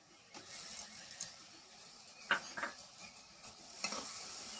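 Poppy seed paste goes into a hot pan with mustard and is stirred, giving a soft, steady frying sizzle and a few light scraping knocks, quiet and close.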